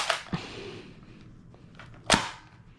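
A Nerf Rival Mirage blaster is primed and fired, with a sharp mechanical snap near the start and a louder close crack about two seconds later, with quiet in between.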